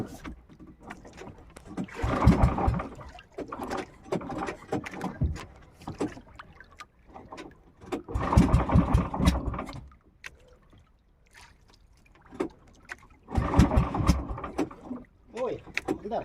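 A small fishing boat out at sea makes three loud bursts of water sloshing and hull thumps a few seconds apart, with quieter knocks and splashes between them and no speech.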